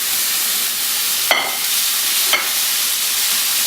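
Garlic and tomatoes fry in hot olive oil with pasta on the go: a steady, even sizzle with two brief sharper bursts of spatter or stirring, close by and with no talking.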